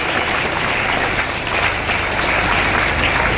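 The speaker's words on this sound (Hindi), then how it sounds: "ताली बजाते रहिए।" Loud, continuous clapping from a crowd at a public function in Ghazipur, dense and unbroken from start to end.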